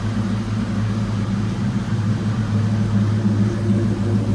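A 1992 Ford Mustang GT Foxbody engine idles steadily through the exhaust, a constant low droning hum with an even, unbroken tone and no talking.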